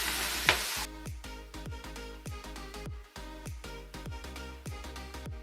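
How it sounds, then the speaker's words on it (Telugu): Spinach with ginger and spices frying in a pan for palak paratha, a burst of loud sizzle as the leaves hit the oil, then repeated rhythmic stirring strokes over a lower frying hiss, close and without talk. "ఈ పాలకూర ఏదైతే ఉందో దీంట్లో వేసుకొని ఫ్రై చేసుకోవాలి."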